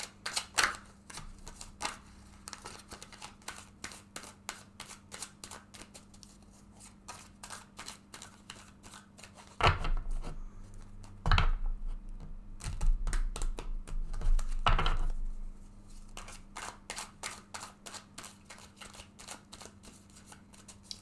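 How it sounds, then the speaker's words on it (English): A Rider-Waite tarot deck being shuffled again and again, rapid crisp flutters and riffles close by, with a few louder bursts partway through and no talking. "go ahead and shuffle this deck several times now"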